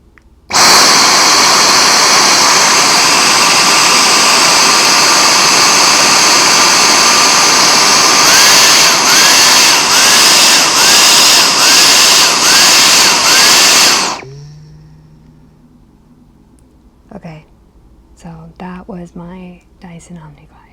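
A Dyson Omni Glide vacuum cleaner runs loud and close with a steady high whine for about fourteen seconds, a brief pulsing near the end before it shuts off; afterward a person talks quietly.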